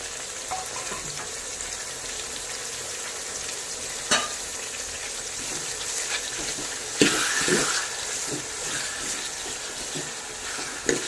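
Tomatoes added to sautéed onions in a pan for a Tamil pomfret fish curry, giving a steady close sizzle and frying hiss throughout, with occasional stirring scrapes and clinks.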